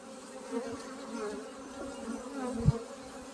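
Honey bees hum steadily at an open hive during a queen release, a dense, continuous drone close by with no talk.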